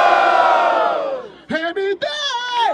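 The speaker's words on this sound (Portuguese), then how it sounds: "Barulho para quem gostou das rimas de Jai Aluk!" A crowd roars at a freestyle rap battle in Barueri, São Paulo. A loud, sustained collective shout dips away, then rises again in strong, tonal yells and whoops.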